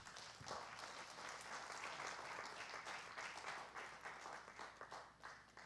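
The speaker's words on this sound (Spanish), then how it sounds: "Denle un aplauso al Señor." A church congregation applauds during a Spanish-language service, a full, sustained wash of many hands clapping together at moderate distance, steady throughout and tapering slightly at the end, with no speech over it.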